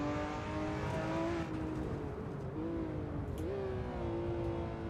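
A Porsche GT3 racing car engine in the racing game iRacing, running with a struggling, nearly dead engine, a steady close drone whose pitch wavers and dips briefly and then settles, no talk.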